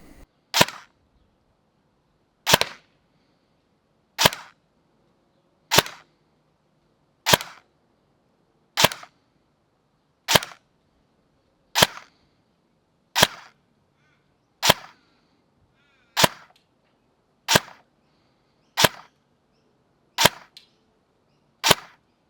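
An LDT MP7 gel blaster fires during a velocity test, giving about fourteen sharp, evenly spaced cracks roughly every one and a half seconds. The shots are close and loud, with near silence between them.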